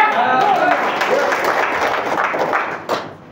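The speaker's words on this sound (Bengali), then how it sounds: "জোরে তালি।" An audience at a lecture on natural healing gives loud applause, a dense burst of clapping mixed with some voices that tails off over about three seconds.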